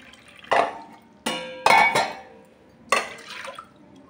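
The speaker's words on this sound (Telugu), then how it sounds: "ఒక 3 గ్లాసులు వాటర్ పోసుకొని నానబెట్టుకుందాం" Water is poured from glasses over dal to soak it, a few short splashing pours in separate bursts with brief pauses between, close and fairly clear with no voices.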